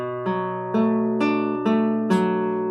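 Classical guitar picking the opening arpeggio of a song, six clear plucked notes that ring into one another at a steady pace, close and alone.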